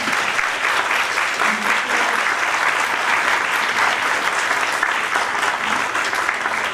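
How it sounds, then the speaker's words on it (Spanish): Sustained applause from an audience at a university panel on professional experiences, dense steady clapping that holds at an even, fairly loud level throughout. "yo les pediría para ellos un aplauso grande"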